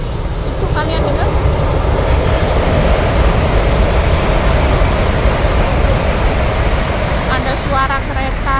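A train rumbles past loudly and continuously, with faint cicada chirping trilling in the background.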